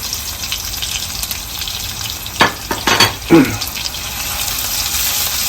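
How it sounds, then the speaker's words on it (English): Ginger, garlic and dry spice powders frying in smoking-hot oil for Schezwan mutton, a steady loud sizzle with a few sharper bursts and crackles midway as the ingredients hit the pan. "I'm just going to fry it lightly as it is, for a minute"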